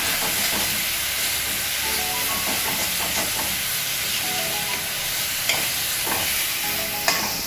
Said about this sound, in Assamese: তেলখিনি ফুটা আপোনালোকে দেখিব এইখিনি ভাজি থকা সময়ত মছলাখিনি অলপ ছেপাৰেট হ'ব তেলৰ পৰা